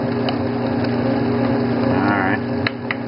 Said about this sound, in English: Now you can also make nut butters with these wet grinders.